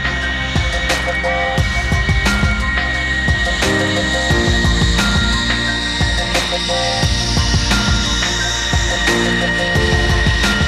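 Military F-111 swing-wing jets land with a loud, continuous engine roar that has a steady whine over it and dense rumbling throughout, close by and filling the whole stretch.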